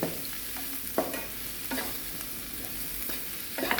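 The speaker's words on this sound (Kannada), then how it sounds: "ನೋಡ್ರಿ, ಚಂದಗೆಲ್ಲ ಮಿಕ್ಸ್ ಮಾಡ್ಕೊಳಕತ್ತೀವಿ." Potato mixture with chilli and salt is stirred in a pan, quiet sizzling broken by periodic spatula scrapes roughly every second, close by with no voices.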